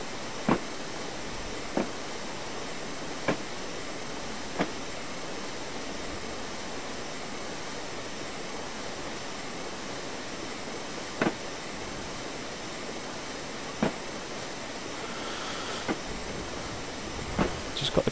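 An LMS Class 8F steam locomotive running on the Border Lines route in Train Simulator 2016, heard as a steady rolling roar punctuated by sparse, sharp rhythmic clicks, with no voices.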